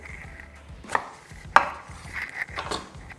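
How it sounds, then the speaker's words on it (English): A kitchen knife slices down through a butternut squash on a cutting board in a few firm, crunchy cuts, with two sharper thunks standing out, close and clear without any talking. "have the butternut squash. Cut it right down the middle."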